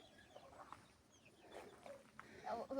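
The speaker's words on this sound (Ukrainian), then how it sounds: "Ще по дорозі побачили курчат." Soft clucking from chicks in a village, faint and somewhat distant, in short scattered calls over quiet outdoor background.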